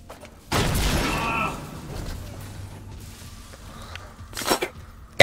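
A fire extinguisher bursts in the Dead Space video game, a sudden loud blast followed by about a second of spraying hiss, then quieter rumbling and a short sharp burst near the end.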